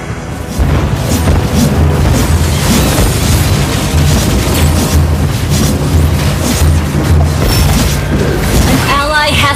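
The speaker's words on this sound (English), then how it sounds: "Your team destroyed a turret!" A turret is destroyed in Mobile Legends amid a loud, dense game mix, with booming impacts and crashes layered over pounding music and effects from start to finish.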